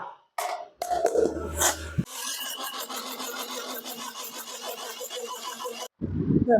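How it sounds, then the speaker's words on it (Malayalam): A kitchen mixer grinder whirs continuously for about four seconds as it grinds papaya with a little water, after a few short bumps and clicks at the start, then cuts off into brief handling noise. "വെള്ളം ഒഴിച്ചതിന് ശേഷം അരച്ചെടുക്കാം"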